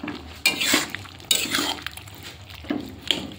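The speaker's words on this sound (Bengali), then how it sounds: "একটু নেড়ে দেব।" Banana stem curry with ghee is stirred in a pan, with a few distinct spatula scrapes and clanks against the metal over a light bubbling sizzle, moderately loud and close, no voices.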